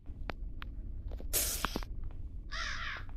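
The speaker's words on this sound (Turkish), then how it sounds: "Şimdi burada karga arkadaşımız var." A crow in the horror video game Granny gives two harsh caws, the first loud and grating, the second shorter, against a quiet in-game background with a few faint clicks.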